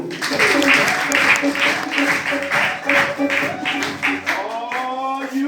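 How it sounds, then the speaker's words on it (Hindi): An audience applauds steadily through a business plan presentation, with a voice talking over it and a brief tonal sound near the end. "सर के लिए एक जोरदार तालियां।"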